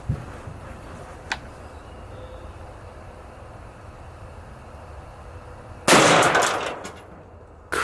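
An AR-15 rifle fires a 5.56 round outdoors. One loud, sharp report is followed by a fading echo tail, with quiet background and a faint click before it.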